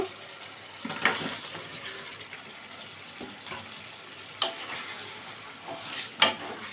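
Chicken pieces cooking in a pan of hot oil and sour yogurt, giving a soft steady sizzle with a few sharper scraping stirs and clinks near the end, no talk.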